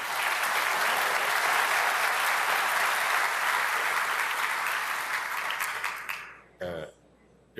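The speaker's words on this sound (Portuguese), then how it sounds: "a quem eu peço uma salva de palmas" Loud, sustained applause from an audience at a formal ceremony in Brasília, steady for several seconds before fading and cutting off, with a brief cough or throat noise near the end.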